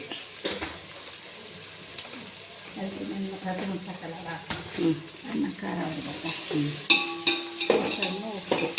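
Onions frying with turmeric and chili powder for tamarind gojju, stirred with repeated scraping clatters over a soft sizzle that grows busier and louder toward the end.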